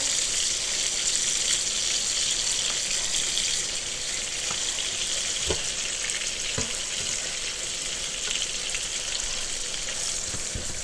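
Sausage patties fry in a pan with a steady, close, hissing sizzle that stays even throughout, broken by a few faint clicks and taps, with no voices.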